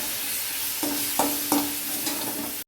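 Spoon stirs chili powder and spices in a frying pan for veg chili paneer, a few close, distinct scraping strokes over a steady sizzle.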